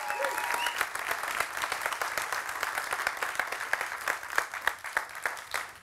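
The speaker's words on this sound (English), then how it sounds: "can we please have another round of applause" Audience applause at a science-communication semi-final, a steady wash of many hands clapping that holds throughout and thins slightly toward the end, heard alone without speech.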